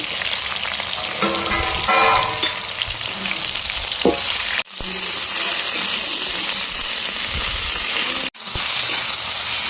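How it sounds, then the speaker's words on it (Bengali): Eggplant fries in hot oil in a wok, giving a loud, continuous close-up sizzle with stirring clatter and brief bubbling bursts, broken by two sharp cuts. "এখন এর মধ্যে বেগুনটাকে দিয়ে একটু ভেজে নেব"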